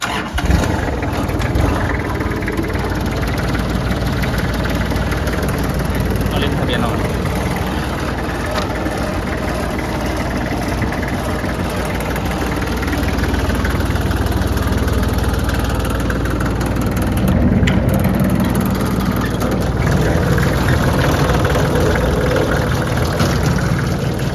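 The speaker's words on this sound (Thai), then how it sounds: "มาฟังเสียงเครื่องนะครับ" The diesel engine of an L3408DT tractor turns over and settles into a steady, rumbling idle, loud and close, with a constant vibrating drone throughout.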